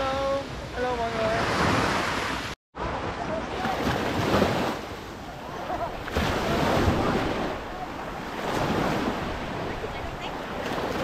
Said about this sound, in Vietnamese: Còn phía dưới này là biển.